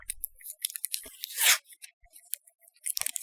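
Adhesive tape is pulled and torn off a roll to fix a stencil down for a Christmas tree decoration, a single loud ripping burst in the middle among light crinkly handling noises.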